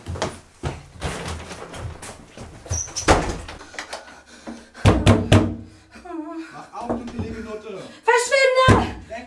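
Fists bang on a closed door, heard as loud, heavy thuds in clusters. Agitated voices shout and talk over and between the blows.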